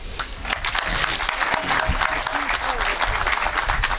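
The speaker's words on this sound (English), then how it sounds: "Give him another big round of applause" An audience at the official opening ceremony of the WRC Safari Rally project headquarters claps loudly and continuously, with dense overlapping applause and some voices mixed in.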